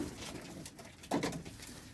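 Pigeons cooing nearby, soft throaty warbling calls with a slightly louder coo near the end over a low background murmur.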